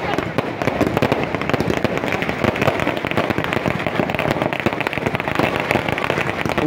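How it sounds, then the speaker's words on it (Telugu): Fireworks burst almost without pause during a village festival in a colony at Kuppam, with loud crackling and popping that fills the scene. "మామూలు బాణసంచా కాలుస్తుంది"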